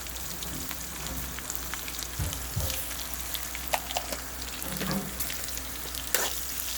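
Onions or aromatics sauté in a pan with salt, giving a faint, steady sizzle with scattered small pops and occasional utensil taps over a low background hum, and no talk.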